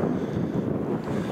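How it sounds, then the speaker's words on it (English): Wind gusts at a wild camp on Illgill Head, making a continuous loud low rush of buffeting against the microphone, with no voices. "The wind's back anyway, so it's windproofs on"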